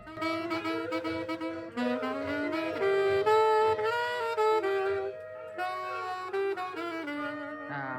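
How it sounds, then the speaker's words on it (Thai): A saxophone plays a smooth, flowing melody with sliding notes and a short pause near the end, heard clearly on its own. "อันนี้ก็จะเป็นมือแซกของวงเรานะครับ"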